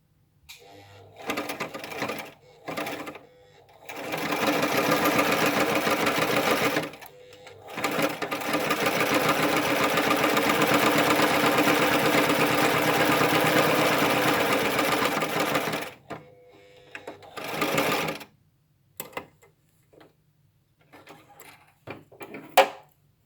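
A sewing machine stitches through three layers of fabric on a cloth face mask, with a long steady whirring run, shorter bursts before and after, and a few close clicks and handling sounds.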